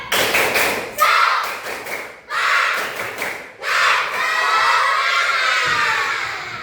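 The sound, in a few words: children doing a rhythmic clapping chant (tepuk semangat)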